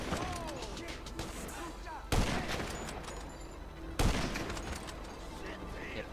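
Sniper gunfire in GTA V Online, two sharp, loud shots about two seconds apart that ring out over steady game background noise, with a faint voice talking underneath.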